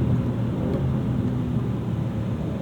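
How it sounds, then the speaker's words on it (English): A 2025 Maserati Grecale Trofeo's engine drones steadily from inside the cabin, a low continuous rumble holding even through a slow, smooth downshift with no sharp change in loudness. "Smooth downshift, it took its time there."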